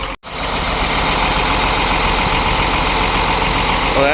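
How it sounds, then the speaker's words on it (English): A Cummins diesel engine that sat unused for years idles loud and close, after a brief dropout at the start, then settles into a steady, even rumble with no voices. "I'll let it idle and see what happens."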